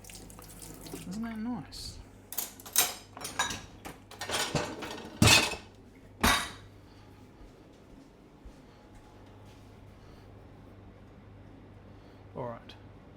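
Dishes being washed in a kitchen sink, with clattering of plates and cutlery in short bursts over running water during the first half, then quieter; someone speaks briefly.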